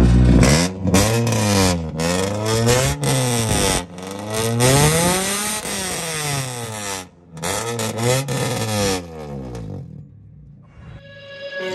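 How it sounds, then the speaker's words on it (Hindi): A modified 1988 Honda Accord engine revs hard in repeated loud bursts, rising and falling in pitch, with brief pauses between throttle blips before settling to a low idle. "चलिए इस गाड़ी का साउंड चेक भी कर लेते हैं"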